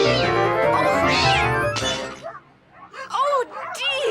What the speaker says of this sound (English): you've made me drop my lovely china budgerigar